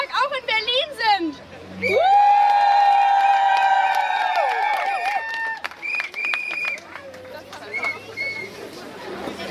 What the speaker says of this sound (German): vielleicht können wir jetzt mal so laut jubeln, dass sie das alle in ihren Klassen auch hören